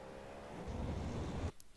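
Front tyres skating under braking in an IMSA racing video game: a steady broadband tyre scrub with a low engine rumble that swells and then cuts off abruptly near the end.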